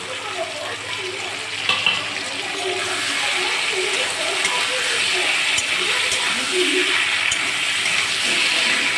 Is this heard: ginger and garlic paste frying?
yes